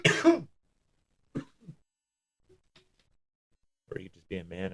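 A single sharp throat-clearing cough near the mic, followed by a couple of small smacks and quiet, then a voice starts talking.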